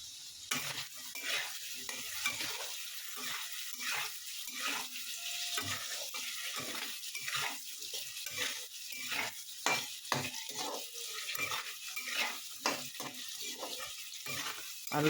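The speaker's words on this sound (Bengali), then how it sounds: "আলুটা ভাজা ভাজা হয়ে যাক" Potatoes with fenugreek leaves and turmeric fry in a pan, a steady close sizzle broken by frequent scraping stir strokes of a spoon against the pan throughout, with no talking.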